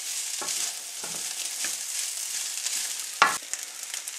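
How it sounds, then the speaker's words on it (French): Rice stir-fried in oil over high heat, giving a steady close hiss of sizzling broken by a few soft scrapes of a utensil and one sharper knock. "On va faire en sorte que l'huile enveloppe bien le riz. On est toujours à feu vif."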